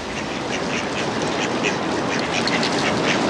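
Ducks quacking on a pond where a male chases the females, a dense chorus of overlapping nasal calls repeating close by over a constant noisy outdoor wash.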